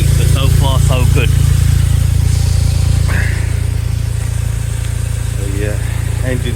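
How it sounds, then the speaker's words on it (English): A Smart fortwo 450 Brabus engine idles steadily after an oil sump replacement, a loud continuous low drone running throughout while someone speaks intermittently over it. "just started the engine, checked for any leaks"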